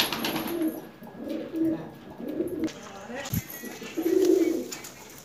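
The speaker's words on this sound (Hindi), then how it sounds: "ये देखो ये कबूतर परीन हो रहा है" A pigeon coos in low, soft repeated phrases close by, with a short gap between calls, while someone talks in Hindi over it.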